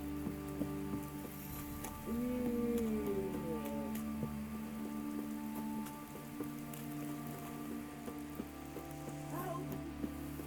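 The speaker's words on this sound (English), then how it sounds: "This downpour's a bastard" Heavy downpour in The Witcher 3: Wild Hunt, a soft, steady hiss of rain on surfaces with scattered drops, low and continuous beneath quiet tonal game ambience, no voices.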